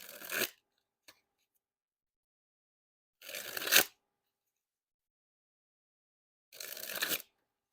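Three separate dribbles of Black Lions Seconds playing cards, each a short burst of crisp, fluttering card edges falling in quick succession, close and clear, with quiet gaps between them.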